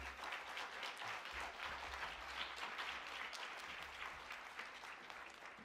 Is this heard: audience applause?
yes